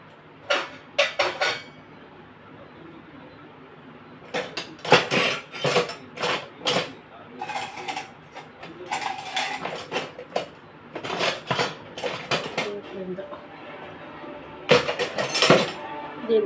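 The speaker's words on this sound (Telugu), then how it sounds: "ఇవన్నీ ఇప్పుడు ఈ గిన్నెలో మనం శుభ్రంగా మెదిపేసుకుందాం" Roasted brinjal and tomato being mashed by hand in a bowl, heard as repeated close clinks and scrapes against the vessel in irregular bursts, with pauses between rounds of mashing.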